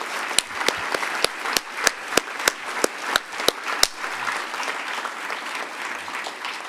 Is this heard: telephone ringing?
no